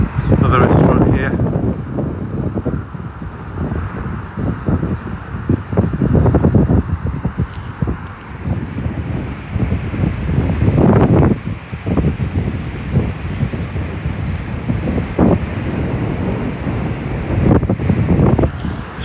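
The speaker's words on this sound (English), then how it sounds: "Sorry about the wind." Strong wind by the sea buffets the microphone in loud, rumbling gusts, with surf and waves washing underneath on a windy day at Protaras, Cyprus, while a person talks intermittently.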